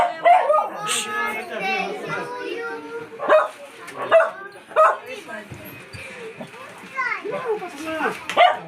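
A dog barks repeatedly in short yips amid children playing and chattering nearby at a first birthday party, the barks rising above the lively background voices.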